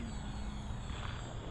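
An E-Flite EC-1500 RC cargo plane flies, its electric motor giving a steady, faint buzzing drone. The tone stays level and continuous over wind noise, with no talking.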